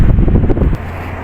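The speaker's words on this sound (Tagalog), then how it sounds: "Lakas ang hangin." Strong wind on Marina bridge in Abu Dhabi buffets the microphone with a loud low rumble that eases off toward the end, no voices.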